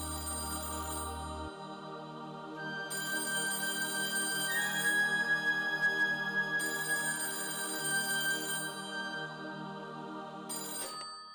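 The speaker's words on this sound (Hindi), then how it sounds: "फोन बज रहा है" A phone rings in a Hindi television drama scene, a loud electronic ringtone in repeated bursts that carries on for more than ten seconds.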